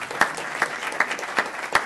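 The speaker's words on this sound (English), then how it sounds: "give yourselves a clap for that" Sparse, scattered applause from residents at an inaugural council meeting, a handful of separate claps spaced about every half second, fairly close and moderate in level, with no talking over them.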